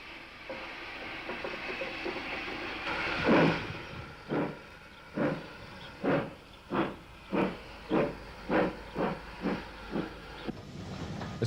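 A SECR C-Class steam locomotive at a Kent branch line closure, opening with a steady steam hiss and then a run of rhythmic exhaust chuffs that quicken, heard close and loud with no talk.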